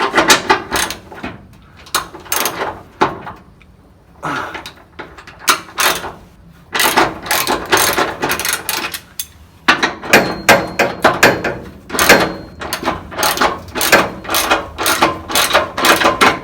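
Repeated ratcheting clicks from a wrench loosening 13 mm bolts under the dashboard of a classic Volkswagen bus, quick bursts of metallic ratchet strokes separated by short pauses, close and loud.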